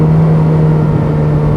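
Ferrari engine heard from inside the car during paddle-shift downshifts, giving a steady, loud mid-pitched drone with a constant hum and no clear separate rev blips.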